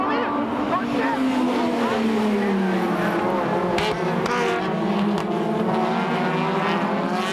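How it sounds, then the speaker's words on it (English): A Toyota AE86 TRD Hachi-Roku race car screams around Tsukuba circuit with engine note rising and shifting through gears, other race cars roaring close by, a loud continuous motorsport din. "Tsuchiya's TRD Hachi-Roku is off to a good start."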